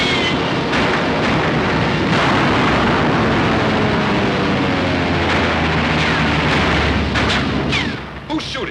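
A recorded movie battle soundtrack in the style of Iwo Jima combat, with dense, continuous gunfire and heavy booming explosions rolling without pause, loud and saturated throughout before easing slightly at the end.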